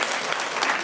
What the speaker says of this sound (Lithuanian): Plojimais pasitinkam Rūtos kortelę.